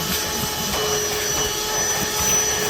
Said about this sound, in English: we'll vacuum any junk that's in there